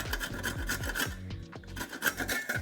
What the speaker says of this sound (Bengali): পাত্র নিয়ে এভাবে একটু গ্রেটার দিয়ে একটু এভাবে ঘষে নেব